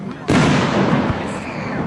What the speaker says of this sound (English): the boom from a firework comes from an explosive combustion or burning that pushes it up into the air